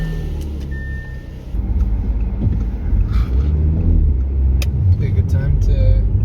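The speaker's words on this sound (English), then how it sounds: "All right, it's test drive time." A car fitted with a Magnuson TVS 1740 supercharger idles and then pulls away on a winter test drive, a steady low engine rumble rising a little as it moves off, with some clicks and faint noises around it.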